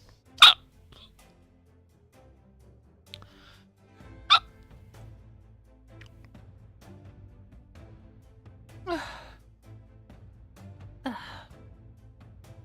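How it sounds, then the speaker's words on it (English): A person hiccups several times, sharp isolated bursts spaced a few seconds apart, close and fairly loud against a quiet background with a faint low hum. "I was having hiccups."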